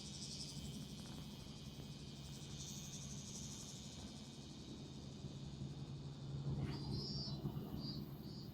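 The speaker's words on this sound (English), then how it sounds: "A little less cicada whining, unless you guys want to hear that." Cicadas whine in a steady, faint, continuous drone at a highway parking area at sunrise, with a low rumble of distant traffic underneath.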